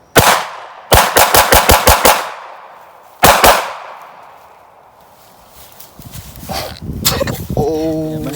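A Glock 47 pistol fires a rapid burst of about seven shots, preceded and followed by single loud shots outdoors, then a stretch of quieter ambient noise with people talking and clattering near the end.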